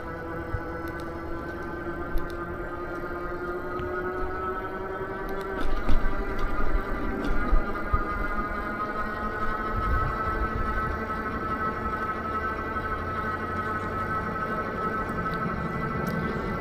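Himiway A7 e-bike with a 500-watt hub motor climbing a hill on throttle alone: a steady, close electric motor whine that holds a constant pitch under wind and road noise.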